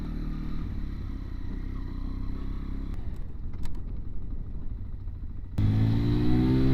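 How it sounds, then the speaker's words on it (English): A Sinnis Blade X, an 11.5-horsepower motorcycle, ridden on an off-road stretch, its engine droning steadily with a brief clattering lull before the revs rise again louder near the end. "let's take the Sinnis Blade X for a little ride"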